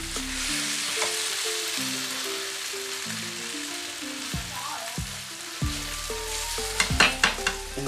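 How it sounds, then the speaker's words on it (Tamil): Potatoes fry in a pan for an egg potato gravy, giving steady close sizzling under a low background hum, with spatula scrapes and clinks picking up near the end. "இப்போ இதை கொஞ்சமாக பொரித்து எடுத்துட்டு"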